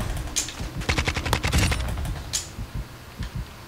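Automatic gunfire from the video game Call of Duty Modern Warfare 2 comes in rapid bursts of loud, close shots, with a dense volley in the middle and scattered shots after.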